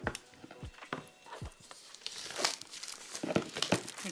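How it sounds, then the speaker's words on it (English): Hands open a box of Korean nail products, crinkling and tearing packaging in irregular close-up rustles, snaps and scrapes, fairly quiet with no talking. "So let's open up this package."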